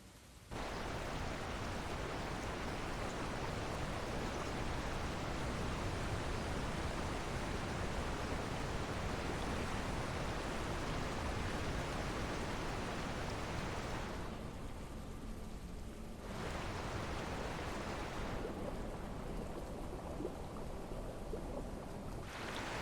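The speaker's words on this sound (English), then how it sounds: "How does the waterfall sound when you're up here?" Steady, dense rushing of a waterfall in the video game Cauldron Chronicles, a constant broadband roar that thins briefly twice as the listening position shifts.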